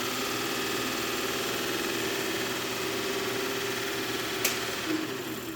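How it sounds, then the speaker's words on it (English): A Kromrey converter's rotor spins between two magnetic blocks, giving a steady mechanical hum and whir with a faint ticking texture, close and continuous, with a brief click near the end. "you can see the rotor spinning inside the two magnetic blocks"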